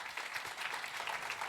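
An audience applauds performers at a musical theatre studio show about Marilyn, with steady, dense clapping that fills the whole short stretch without any voices.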